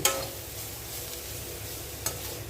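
Butter bean masala being sautéed and stirred in a pan, a steady soft sizzle with a couple of brief scraping stirs near the start and again near the end.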